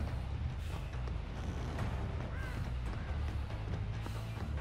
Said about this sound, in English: Heard a bird.